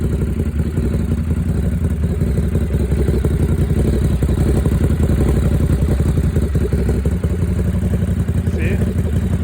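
A motorcycle fitted with a new exhaust runs close by, a loud, deep, rumbling engine burble with a lumpy, uneven idle pulse that stays throughout.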